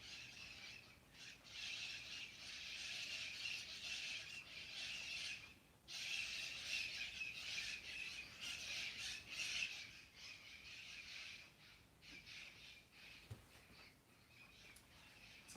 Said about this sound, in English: There's also a lot of parrots in the neighborhood today, like more than the usual amount.